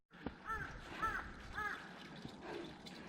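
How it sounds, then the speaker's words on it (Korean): A crow caws three times outdoors in cold winter air, evenly spaced harsh calls at a moderate distance over a faint background hiss, with a softer fourth call trailing off. "까마귀가 가 가 가 가 그런다"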